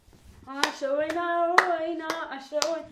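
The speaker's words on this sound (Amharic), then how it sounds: "አጨብጭቡ እንጂ" Hand clapping at a wedding celebration: five evenly spaced claps about half a second apart, close and crisp, under a sustained singing voice.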